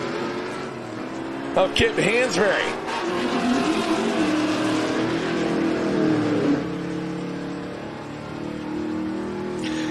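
Stick-shift drag race car launching and accelerating down the strip at a summer drag racing event, engine rising through gear changes over steady crowd and track noise, with a commentator talking throughout.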